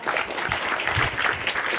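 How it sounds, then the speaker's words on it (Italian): A room of people at a music school gathering claps for Giuseppe, a brief burst of continuous, moderately loud applause with no pauses and a little background voice noise. "Un applauso a Giuseppe."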